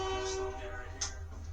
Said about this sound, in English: All I have, windows open, trains going by.